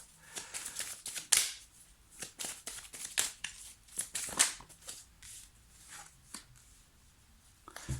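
Tarot cards are shuffled by hand in a quiet room, producing a string of soft, papery riffles and flicks with irregular bursts and pauses, close up and with no talking.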